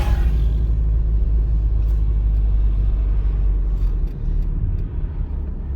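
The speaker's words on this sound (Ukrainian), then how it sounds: "Я зараз рухаюсь 40 км на годину, третя передача, у мене механіка, 1600 обертів на хвилину" Manual-transmission car cruising at 40 km/h in third gear around 1600 rpm, a steady low engine and road rumble from inside the cabin, continuous and fairly loud with no talk.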